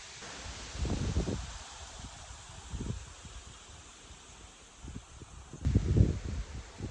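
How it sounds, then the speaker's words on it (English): Gusts of wind rustle through leaves in bursts, swelling and fading, with a steady airy hiss between the louder gusts. "it is windy today."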